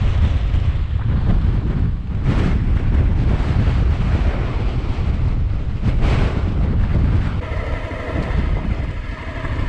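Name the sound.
strong wind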